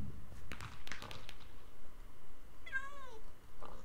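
A cat in the video game Minecraft gives a clear, rising-and-falling meow near the end, after several soft tapping and stepping sounds in the game.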